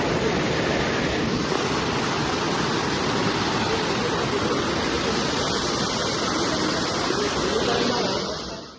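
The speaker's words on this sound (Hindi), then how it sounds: "नदी का बहाव इतना तेज़ था कि आप इसकी आवाज़ साफ सुन सकते हैं।" Fast-flowing Tamsa river rushing beside a natural cave temple in the Doon valley near Dehradun, a steady, loud broadband roar of churning water that holds constant throughout with no pauses.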